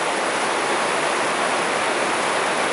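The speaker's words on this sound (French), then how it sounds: "Aujourd'hui la rivière est démontée" A flooded trout river in spate, rushing loudly and steadily as a dense, unbroken roar of fast water close by, with no voices.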